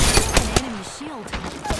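Video game gunfire, sharp rapid shots in bursts, loud and close, mixed with game effects and a voice talking over the action.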